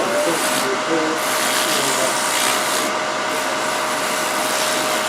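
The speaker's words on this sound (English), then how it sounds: "I'm going to sand the outside." The outside of a welded galvanized metal Christmas ornament being sanded, a loud steady broadband rasping hiss that runs without pause, close to the microphone.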